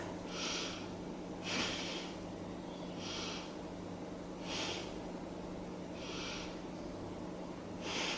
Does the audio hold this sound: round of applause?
no